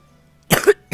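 Two sharp human coughs close to the microphone, a double cough followed by a single shorter one, in an otherwise quiet room.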